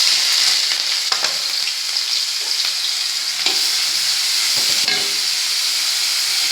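Smashed onions frying in a hot pan for chaat, a loud, constant hissing sizzle with a few scraping stirs cutting through, close up and without any talk.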